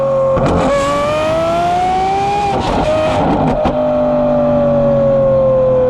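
A yellow straight-piped Lamborghini SVJ revs loudly, its raw exhaust wailing in long rising and falling pulls with crackling bursts between, close and harsh.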